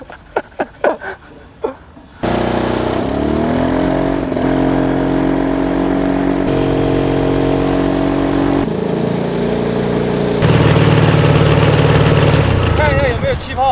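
A two-cylinder engine on a homemade ultralight aircraft runs loud and steady for about eleven seconds, its pitch shifting slightly and rising near the end, after a few brief sharp sounds at the start.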